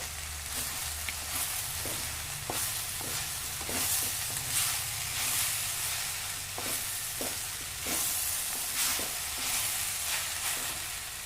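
Spices sizzle steadily in a hot pan for a veg sandwich filling, with a broad frying hiss and irregular scraping stirs recurring throughout, close and continuous with no talking.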